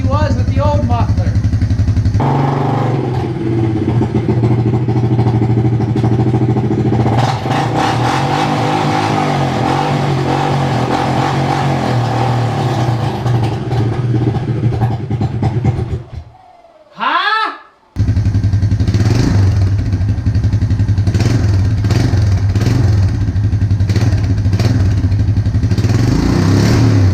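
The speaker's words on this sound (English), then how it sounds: "listen how much quieter she is compared to how she was with the old muffler" A small motorcycle engine idles and revs close by after being fitted with a new muffler, a steady mid-pitched running note with a few throttle blips, briefly cutting out before restarting, while someone talks over it.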